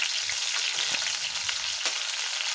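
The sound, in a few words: frying curry leaves and green chillies in oil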